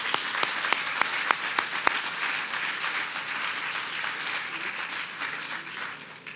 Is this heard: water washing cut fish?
no